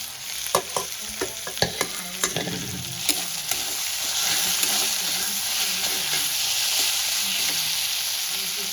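Boiled fish filling for fish fingers fries in a pan while a spatula stirs it, sharp scraping clicks over a steady sizzle that grows denser and hissier in the second half, close and without speech.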